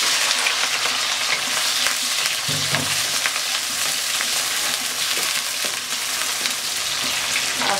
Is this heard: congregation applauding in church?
no